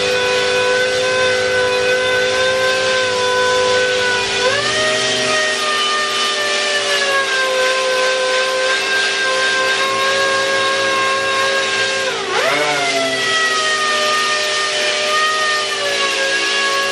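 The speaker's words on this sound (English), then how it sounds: "I'm using freaking 40 grit, bro. So 40 grit is super aggressive" Coarse 40-grit sandpaper scrapes over a car dashboard stripped of paint, a steady loud abrasive rasp overlaid by a whining motor tone that shifts pitch twice, no voices.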